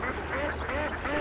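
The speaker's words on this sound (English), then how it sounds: "I've just realised that duck sound" A duck quack sound effect plays in the OpenRails train simulator on the Nene Valley Railway route from Wansford to Peterborough: a few nasal quacks over a steady ambient background.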